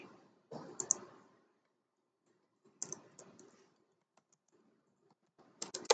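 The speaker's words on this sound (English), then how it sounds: "I don't know why I'm typing in all the wrong things." Bursts of typing on a computer keyboard during a 3D modeling session, quick clusters of close clicks separated by quiet pauses, with a few isolated keystrokes in between.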